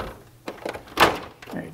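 Plastic cover piece of a mini split air conditioner popping off the indoor unit, with a couple of dull clicks and a close, firm snapping thunk.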